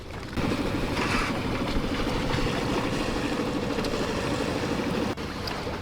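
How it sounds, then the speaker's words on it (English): A sailboat's inboard engine chugs steadily after starting, a continuous close, loud motor drone with a faint water wash over it and one brief dip near the end. "So let's turn on the engine and get a little motor sail going."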